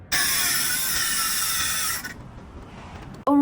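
An electric metal-cutting saw grinds through a bicycle lock in a loud, continuous high-pitched screech lasting about two seconds, then cuts off, leaving a low rumble before a sharp clank at the end.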